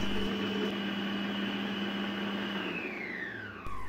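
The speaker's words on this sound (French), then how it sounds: "nous allons programmer le robot à la vitesse 12 pendant 10 secondes" Moulinex Companion food processor chopping onions at a high speed setting, a steady loud motor whine and hum that holds for several seconds, then drops in pitch as it winds down and stops abruptly.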